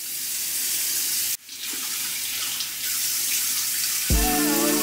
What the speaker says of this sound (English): So I'm gonna go ahead and rinse this off and then we will start on our toenails.